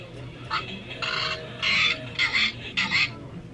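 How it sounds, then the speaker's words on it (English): A parrot call played for a guess-the-animal game: five short, harsh screeching bursts in a row, fairly loud, with brief gaps and no talking over them. "It's a parrot."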